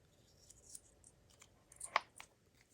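Small glass beads handled in packaging give a few quiet clicks and taps, one sharper clink near the end, with faint rustling between them.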